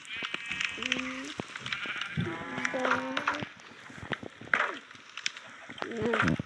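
Minecraft sheep bleat several times in short, wavering calls spread across the stretch, with a person talking in the background.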